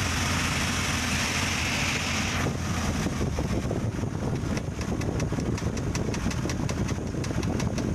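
A Mitsubishi Colt T120 engine idles roughly before its distributor is adjusted, giving a loud continuous uneven rumble with a rapid ticking pulse that sharpens after a couple of seconds, and no talk.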